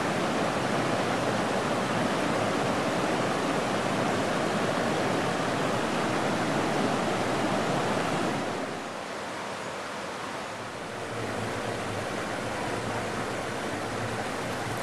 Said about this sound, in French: la Serre montre ce caractère changeant et irrégulier d'une rivière de montagne